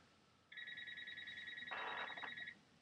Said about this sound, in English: I got a phone ringing that I didn't even know worked.